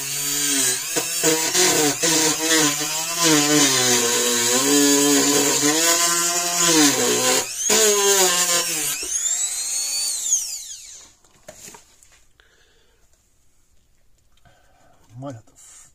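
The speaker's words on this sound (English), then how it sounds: "The Dremel or little wire brush in here." Dremel rotary tool with a small wire brush whirring at high speed close by, its pitch wavering under load for about ten seconds before cutting off, with a voice speaking over it while repairing an electric battery charger.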